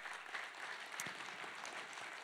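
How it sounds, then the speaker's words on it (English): A brief, faint stretch of audience applause after a comedy-style talk, a soft steady wash of clapping heard from a distance with no voices over it. "let's give him a round of applause"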